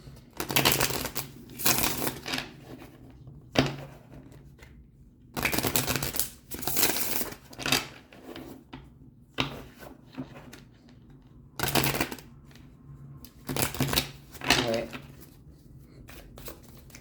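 Tarot cards shuffled by hand in repeated short riffling bursts with pauses between, close and moderately loud, while a person talks intermittently.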